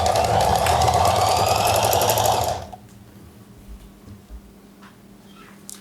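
A sewing machine runs steadily while stitching a frock with gathered panels, a loud continuous mechanical whir for about two and a half seconds that stops abruptly, leaving faint room noise with a few small clicks.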